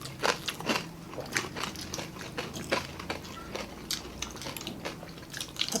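Crispy lechon kawali, Filipino deep-fried pork belly, crunched in repeated close bites and chewing during a mukbang, with sharp crackly snaps recurring steadily throughout.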